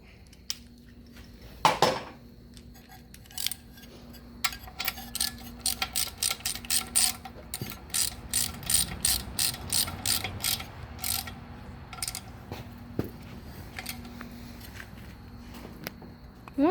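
A ratchet wrench tightens bolts on the water pump of a 1974 Johnson 70hp Stinger outboard. Quick bursts of close mechanical clicking repeat for several seconds, with an isolated snap near the start and quieter handling noises afterward.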